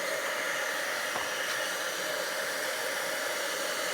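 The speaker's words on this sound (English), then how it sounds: "Then I get my heat gun." A steady, hissing roar of a heat gun blowing continuously at close range over silver embossing powder on cardstock, unchanging throughout with no voices.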